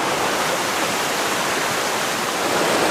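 Water pours steadily through a fish pass built for the apron on the Ardèche river, a loud, unbroken broadband rush like a small waterfall that stays close and constant throughout.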